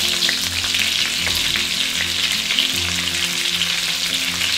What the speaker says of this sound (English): In the same way, we're gonna fry some veggies.